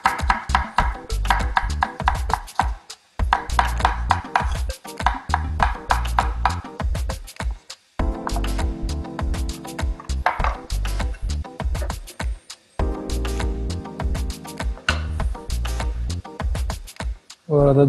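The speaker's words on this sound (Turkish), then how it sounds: "Şöyle hafif ince ince doğrayacağız" Rapid, steady knife chopping of peppers on a cutting board, a dense run of crisp close taps with a few brief pauses between bursts.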